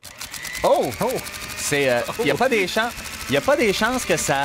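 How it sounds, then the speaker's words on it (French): A ceiling fan being switched on, with a rapid, regular mechanical ratcheting click running steadily under loud, close conversation between people. "Fait que j'ai décidé d'installer un ventilateur en haut"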